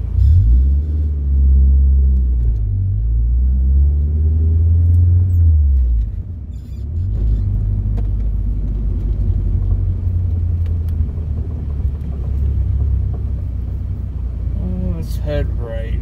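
A 1998 Nissan 240SX S14 pulling away, its engine a steady low rumble heard from inside the cabin with a fan running, with a brief rise near the end.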